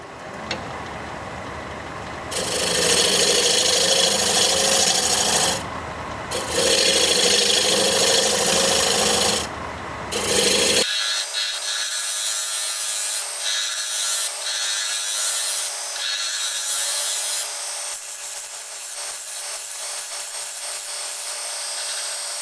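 A wood lathe whirs steadily as a tool cuts into spinning sassafras wood, with rough scraping bursts that give way to a smoother, lighter hum partway through.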